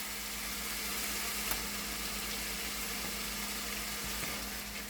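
Ginger-chili paste frying in a pan for Indian kidney bean curry (rajma), giving a steady, even sizzle with faint clinks that continues unbroken through the whole stretch.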